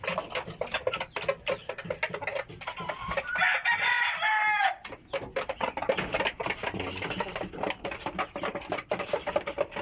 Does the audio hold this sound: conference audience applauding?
no